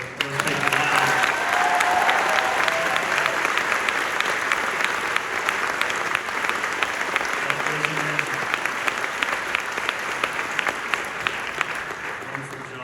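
Loud, sustained applause from a concert audience at a District 7 honor band concert, steady clapping with scattered cheers filling the whole stretch.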